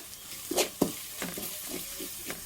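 Chilli powder, fenugreek powder and garam masala fry in oil for a fish dish, a low steady sizzle broken by a few distinct scrapes and clinks of a spoon stirring the pan.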